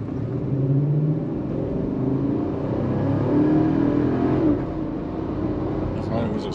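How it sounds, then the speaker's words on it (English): A car engine at full throttle, driving through a 4L60E automatic transmission, roars loudly and steadily as the revs climb, then eases as the transmission shifts from first to second gear partway through. "Full throttle, 1-2 upshift."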